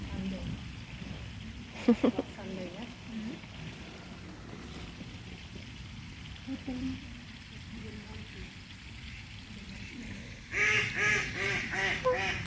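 Ducks and ducklings quack and honk at a reservoir, a few calls early and a louder cluster of quacks at the end, with people talking softly in between.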